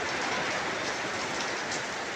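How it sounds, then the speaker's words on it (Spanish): Heavy rain pours steadily in Mochi, a dense, loud, continuous hiss of drops on surfaces with no break, heard close and alone. "Buen llovidón."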